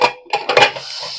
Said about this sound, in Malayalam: അപ്പോൾ നമ്മളെ കുക്കർ തുറക്കാൻ പോവാണ് കേട്ടോ.